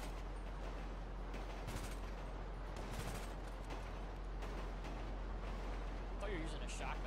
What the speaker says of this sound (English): I thought you were using a shotgun there